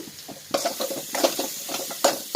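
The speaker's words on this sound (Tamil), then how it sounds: "கருவேப்பிலை எல்லாம் போட்டு தேங்காய் எண்ணெய் நல்லா வதக்கிட்டு இருக்கேன்." Curry leaves and spices sautéing in coconut oil for a stingray fish theeyal, with a close, crackling sizzle and repeated stirring scrapes in quick irregular bursts, no voices.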